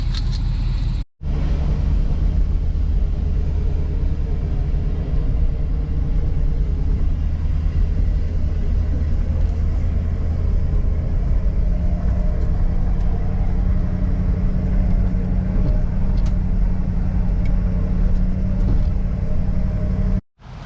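A truck drives along the road at the start of a long trip to Colorado, heard from inside as a loud, steady engine rumble with road noise that carries on without a break.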